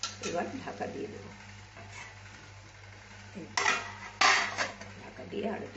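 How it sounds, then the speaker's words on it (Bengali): A lid clatters onto a metal kadai in which ilish pulao, hilsa fish with rice, is cooking. There are metallic clanks and scrapes of cookware, a low fan hum runs underneath, and a voice speaks briefly. "এবার ঢাকা দিয়ে দেবো।"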